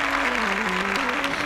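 Church congregation clapping together during a morning prayer service, a dense, steady wash of applause over sustained musical tones that step between pitches.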